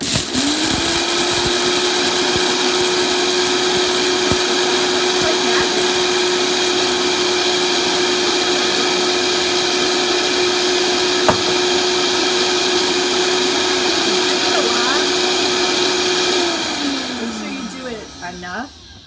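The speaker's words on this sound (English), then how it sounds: "let me just grind these up so I can show you" A blender on high grinds hard buckwheat groats into flour, a loud steady whirring drone that holds constant for about sixteen seconds before spinning down and fading at the end.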